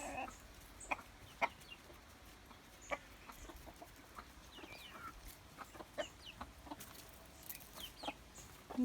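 Scattered soft clucks from several chickens, with a few sharper calls over a quiet outdoor background.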